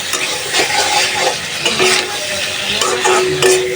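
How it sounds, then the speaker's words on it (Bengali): Flat beans sizzle loudly in oily spice masala in a pan, stirred with a utensil that scrapes and clinks against the metal in uneven strokes. "সিমগুলো দিয়ে দিলাম মশলাটা ভালোভাবে কষিয়ে সিমটাও মশলার সাথে ভালোভাবে কষায়নি"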